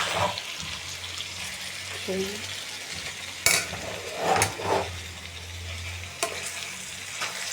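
Tomato and potato curry stirred in a pan, soft scraping and sizzling strokes at intervals over a steady background hiss, with occasional louder clinks.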